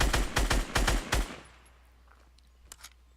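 Gunfire in the Fortnite video game during a sniper battle: five loud, sharp shots in quick succession, then near silence with a couple of faint, distant shots toward the end.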